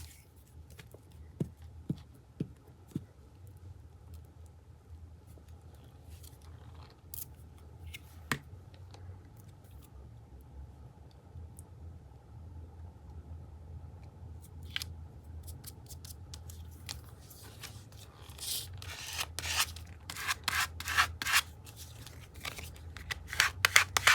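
Scissors trim corrugated cardboard up close: faint, sparse snips early on, then a denser run of crisp cutting clicks toward the end, with no talking.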